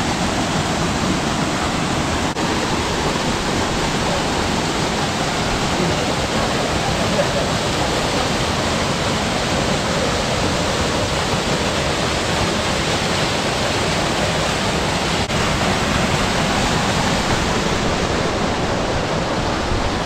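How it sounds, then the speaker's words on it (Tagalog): A waterfall in Banff roars as steady, loud broadband rushing water, unbroken and dense for the whole stretch, with no voices standing out over it. "And narating namin tong isang falls dito."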